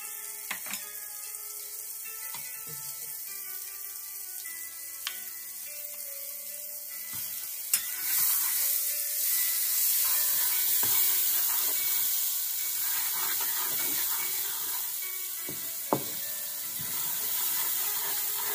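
Chhana dalna mixture, a vegetarian Bengali cottage-cheese curry base, sizzles and fries in a pan while being stirred, with a steady broad hiss, a few sharp utensil knocks and soft scraping throughout.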